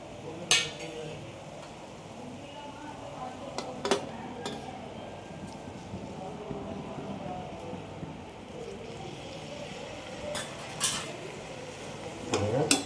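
Coriander and mint leaves being mixed through jackfruit biryani in a pot, with a soft ongoing rustle and scattered clinks and knocks of a spoon against the vessel, a few sharper taps standing out.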